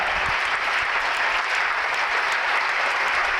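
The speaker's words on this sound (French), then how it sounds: "Tu peux acclamer simplement, Papa Jésus, qu'on acclame simplement" A church congregation acclaims Jesus with sustained, dense applause. Many hands clap steadily and loudly for the whole stretch, with no voices.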